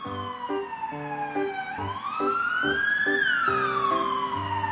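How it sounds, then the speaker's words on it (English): An ambulance siren wails loud and close, its tone rising and falling in long sweeping cycles with a steady repeating pattern and no talk over it. "This is an ambulance."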